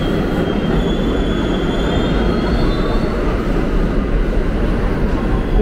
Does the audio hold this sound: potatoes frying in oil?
no